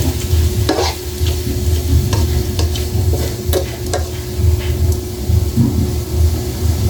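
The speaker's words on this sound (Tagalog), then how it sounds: "Halo na natin." Eel adobo cooked in coconut milk with chilies being stirred in a pan, a steady close sizzle with scraping spoon strokes and knocks against the pan running throughout.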